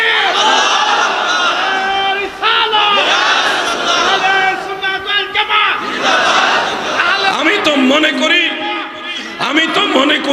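A large congregation at a Bengali religious sermon answering the takbir call, many voices shouting together in loud, sustained chanted bursts that swell and break and then rise again.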